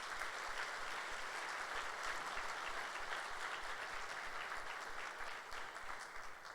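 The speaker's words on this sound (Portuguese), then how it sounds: "Vamos dar um aplauso a Jesus por isso?" A church congregation applauds during a Sunday service, a dense, steady wash of many hands clapping together that fills the room and holds for several seconds, easing slightly near the end, with no talking over it.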